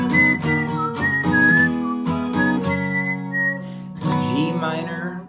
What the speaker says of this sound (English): And you get your whistling ready.